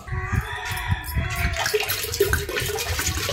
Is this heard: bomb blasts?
no